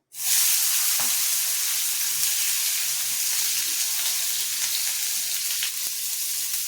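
Chopped onion and green chilli sautéing in a hot pan for egg momos, a steady close sizzle and hiss running throughout with a few faint stirring clicks, no voices.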